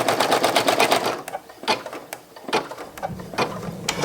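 An embroidery machine sews a placement stitch with white thread on a white patch background. It runs as a rapid mechanical chatter that stops and starts in bursts, heard up close with no talk.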